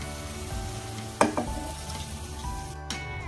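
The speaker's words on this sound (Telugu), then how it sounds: "ఇప్పుడు ఇందులో పోపు వేసుకుందాం" Tempering of spices poured into a pan of brinjal curry crackles and sizzles in hot oil, with a sharp burst of spitting followed by a steady close frying hiss, no voices.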